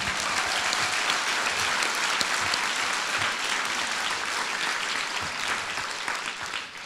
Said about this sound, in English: So I want to give them a round of applause for letting us do this.